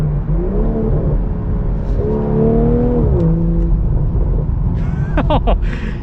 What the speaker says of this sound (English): You hear the turbo noise really well too.